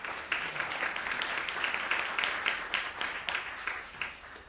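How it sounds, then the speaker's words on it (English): A concert audience breaks into sustained applause, many hands clapping in a dense, even wash that thins slightly toward the end, with no voices over it. "Big applause for all of you."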